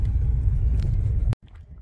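Car interior rumble while driving near Marienburg fortress in Würzburg, a steady low road and engine drone that cuts off abruptly near the end, leaving faint quieter noise.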